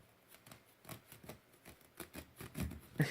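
Scissors snipping through tough gauze, a quiet series of irregular close clicks and cuts that grow slightly louder toward the end.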